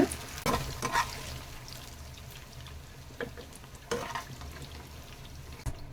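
Raw banana slices fry in hot oil in a pan, a steady soft sizzle broken by several sharp scraping stirs of a spatula, close and fairly quiet.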